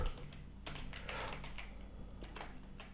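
Code is typed on a computer keyboard as quick, irregular bursts of close, crisp key clicks over a low steady hum, with no talk.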